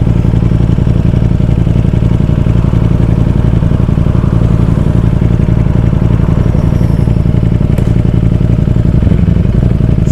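A Ducati Streetfighter V4S engine idles steadily nearby, a deep, throbbing rumble with a fast, even pulse that holds unchanged throughout, with no talking.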